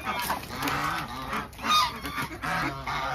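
Swans and ducks, including Pekin ducks, at a bird farm in Pune give repeated honking, goose-like calls from several birds at once, some close and loud, overlapping in irregular bursts.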